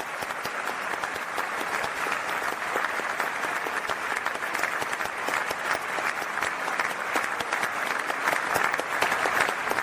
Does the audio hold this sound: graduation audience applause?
yes